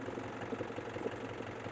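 A tractor engine runs steadily at close range in first gear, a continuous mid-low rumble with slight knocking pulses and no clear rise in revs.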